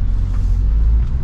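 A 2023 Ford Bronco Badlands with the 2.3 liter EcoBoost four-cylinder and seven-speed manual gearbox accelerates, heard from inside as a loud, steady low engine rumble with road noise.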